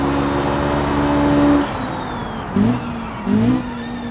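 Small car in the BeamNG driving game, engine revving high and then dropping through quick gear shifts, each shift marked by a brief rising surge, loud and close.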